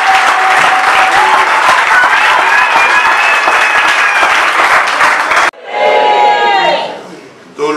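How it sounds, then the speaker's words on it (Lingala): Strong audience applause at a ceremony honoring people with disabilities, loud sustained clapping with crowd noise that cuts off abruptly, followed by a short burst of cheering and whistling that fades. "Et je demande à l'auditoire de vous acclamer très fort."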